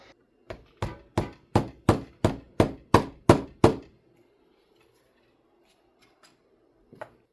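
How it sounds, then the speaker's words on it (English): A hammer taps a roll pin into a GR86 Verus dipstick tube on a countertop, ten sharp evenly spaced metallic strikes up close, then quiet with one faint knock. "Okay, I tried it with a hammer"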